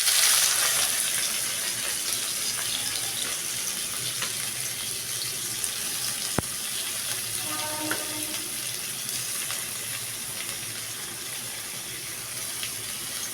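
Onions frying in a pan for a prawn curry make a steady broadband sizzle throughout, with a faint clink partway through and no talking.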